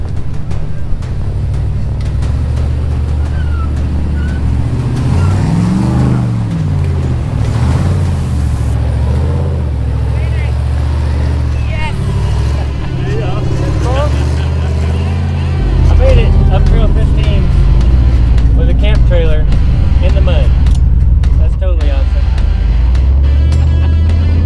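An off-road vehicle drives hard up a rough trail, its engine a loud, steady roar that rises and falls with revving and surges louder in the later part, with voices talking over it.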